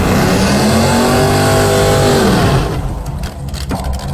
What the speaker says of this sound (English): roll it off the starting line a little ways before I actually hit the nitrous button